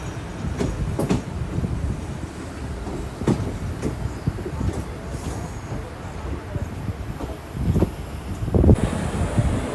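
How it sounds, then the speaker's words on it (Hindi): A train pulls in at platform 4 of Laksar Junction, a continuous low rumble with faint clatter and wind buffeting the microphone, heard from a distance and steady throughout. "कोई तो ट्रेन आई है 4 नंबर प्लेटफॉर्म पे लक्सर जंक्शन के"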